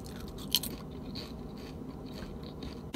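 Someone crunching and chewing stale Dollar Tree snacks close up, with a sharp bite at the start followed by softer crunches and chewing noises.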